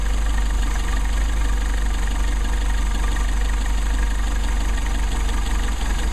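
A Mercedes 190SL engine idles while its carburetor is adjusted, making a steady, close, low mechanical drone with a faint knocking texture and no clear changes in pace.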